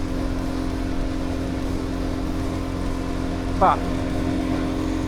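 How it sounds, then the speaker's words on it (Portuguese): A motorbike rides along a road before heading off-road, its engine holding a steady, close drone throughout, with a brief spoken interjection near the end. "vou aproveitar para poder fazer aquilo que tenho a fazer com a moto, que é andar na estrada e off-road a seguir, tal como estou a fazer agora"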